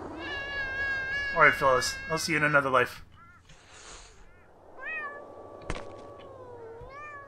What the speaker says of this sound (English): There's cats. There's lots of cats!